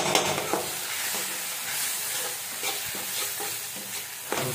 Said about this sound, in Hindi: बस इसको मसाला डाल के फ्राई कर दूंगा